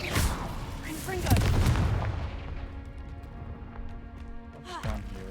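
The Confringo blasting spell explodes in the video game Hogwarts Legacy: a loud, close, booming blast with a rumbling low impact that decays into a fading tail, followed by lighter clattering game sounds.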